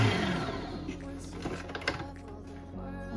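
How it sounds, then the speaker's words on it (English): An electric mixer beats butter and sugar for a Victoria sponge cake batter: a steady, fairly quiet motor whir near the microphone, with a few soft knocks and clunks against the bowl. "So here is my butter and sugar is mixing really well"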